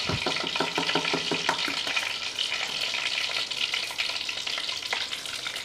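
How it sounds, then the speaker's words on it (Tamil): Steady, crackling sizzle of egg frying in a hot pan on a rocket wood stove, with occasional scraping stirs; no voices. "முட்டை பொரிக்குது"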